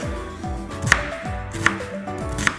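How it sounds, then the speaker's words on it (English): Three sharp knife chops land at a steady pace on a chopping board during food preparation in a kitchen, close and clear over a low background hum. "here I am back on the chopping board"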